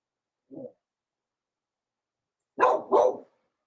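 A dog gives one short soft bark, then after a pause two loud close barks in quick succession against silence.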